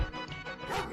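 A dog gives a brief, close yapping bark, a single short burst lasting about a second.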